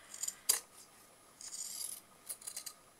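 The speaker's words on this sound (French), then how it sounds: "vous avez un ciseau cranteur et à ce moment-là, il suffit de cranter pour pas que le tissu s'effiloche" Pinking shears notch the corners of fabric for a beginner's tote bag sewing project, producing a few quiet, short, crisp snipping and rasping cuts in an otherwise silent room.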